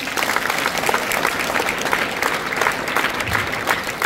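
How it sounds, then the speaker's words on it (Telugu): Audience clapping loudly at a student gathering in Tandur, a dense, continuous burst of applause from a crowd that fills the whole stretch. "ఉంటే ఒకసారి గట్టిగా చప్పట్లు కొట్టండి"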